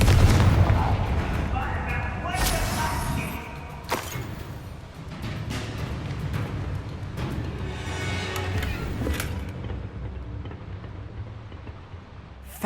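Confringo blasting-spell explosions in Hogwarts Legacy, a run of loud booming blasts with sharp cracks and rumbling decay, dense game-combat noise around them.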